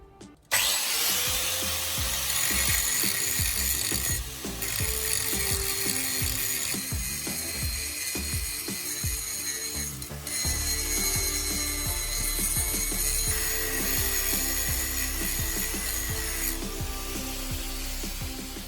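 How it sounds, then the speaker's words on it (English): A grinder scours rust off the outer face of a steel hammerhead clamped in a vise, a loud continuous rasping roar with brief dips and surges as the tool moves across the metal. "Use a grinder to remove rust from the outer surface."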